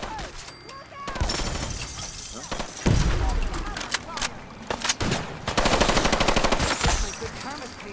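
Fallout 4 VR combat against gulpers in fog: sustained rapid automatic gunfire with bursts and sharp shots, loud and close, mixed with shattering impacts and shouted voices.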